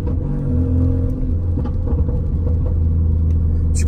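A car on a track day drives steadily with a continuous, loud low engine rumble and road noise, the engine note shifting slightly as it moves, with no one speaking over it.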